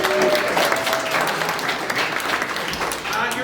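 Audience applause fills an improv comedy theater for the house company players, dense and steady from start to end, with some talk and cheering mixed into the clapping.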